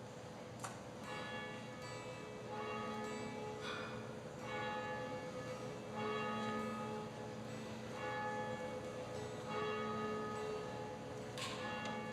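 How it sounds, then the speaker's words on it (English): A church bell rung to call a congregation into worship, struck repeatedly at a slow, even pace, the tones ringing out moderately far off over a steady room hum. "will be ringing our bell to bring us into worship"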